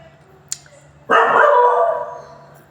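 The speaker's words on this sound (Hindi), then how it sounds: "हमारा कुत्ता भौंक रहे हो" A household dog barks once in a single loud, close bark after a brief click, the bark trailing off over low background hum.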